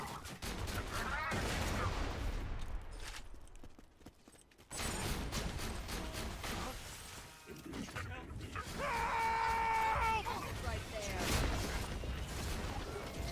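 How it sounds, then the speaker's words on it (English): Borderlands 2 game gunfire in a True Vault Hunter co-op session, bursts of rapid shots and clattering weapon effects under game music and sound effects, loud through most of the stretch with a brief quieter gap. "I'm hearing more gunfire than usual."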